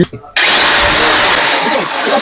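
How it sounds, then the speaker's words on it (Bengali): An Inco core cutter drill machine whirs up abruptly after a brief pause and runs at a loud, steady high-pitched whine. "এটা হলো আপনার ইনকু ব্র্যান্ডের কোর কাটার ড্রিল মেশিন"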